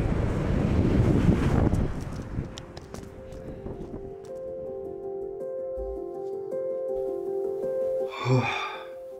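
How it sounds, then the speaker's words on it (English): Heavy wind at the top of the Angel's Rest hiking trail buffets the microphone in a loud roaring rush at first, then eases into a gusty background rumble with a brief breathy burst near the end. "it's a little windy."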